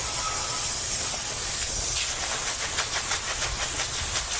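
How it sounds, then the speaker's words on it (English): A water spray rinses a heavily neglected car wheel, giving a continuous loud, close hiss throughout with a faint rapid pulsing as the stream moves across the spokes. "So let's go ahead and rinse it off."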